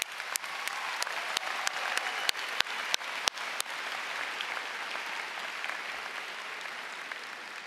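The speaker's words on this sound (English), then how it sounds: "They deserve a round of applause." A graduation audience at a 2022 commencement ceremony applauds. A handful of sharp, distinct claps come first, then they blend into a steady, moderately distant wash of clapping that carries on for several seconds.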